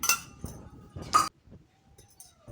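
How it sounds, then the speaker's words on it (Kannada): A frying pan is handled on the stove before oil goes in for tempering a jackfruit sambar, making a few sharp metallic clinks close by, separated by quiet gaps. "ಒಂದು ಬಾಣಲಿ ತೊಗೊಂಡು ಎಣ್ಣೆ ಹಾಕ್ಕೊಳ್ತೀನಿ."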